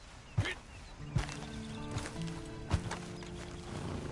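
Hooves clop in a slow, spaced pattern of about four soft thuds as a horse walks in the Red Dead Redemption 2 video game, under a faint low ambient hum.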